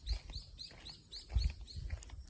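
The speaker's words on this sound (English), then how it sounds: "Listen to the birds singing." Birds sing outdoors in nature, a repeated series of short high chirps in a regular rhythm, moderately near and soft over low background rumble.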